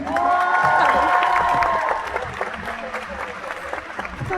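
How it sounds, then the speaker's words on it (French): A convention audience claps and cheers for a translator at a Toulouse actor panel. Loud, dense applause with whoops rises from the start, then thins into scattered clapping while people talk. "que vous fassiez un tonnerre d'applaudissements pour ma traductrice de choc et de charme"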